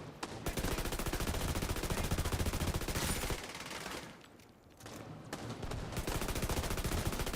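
Rapid automatic gunfire from a lightweight M4 rifle in The Division 2 video game, dense sustained bursts with a brief lull in the middle before the shooting resumes.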